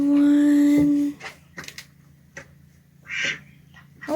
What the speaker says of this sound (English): I hear the quackers